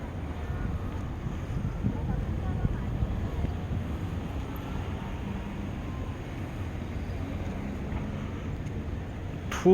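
Heavy wind buffeting the microphone on a seaside main street in Tongyeong, a constant low roaring rumble that fills the whole stretch, close and loud, with no clear voices and a faint brief knock at the very end.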